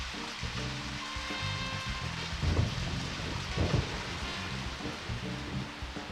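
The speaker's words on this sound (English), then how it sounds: "And it's raining." Rain falls steadily in the video game Deadly Premonition Origins. The constant hiss sits under low droning game music, with a couple of brief rumbling swells.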